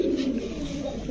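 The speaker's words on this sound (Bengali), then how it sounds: "পুরান জাতের সাপচিলা চুইঠাল কবুতর ভাই।" An old-breed Sapchila Chuithal pigeon gives a soft, low, continuous coo, close and fairly quiet, with no talk over it.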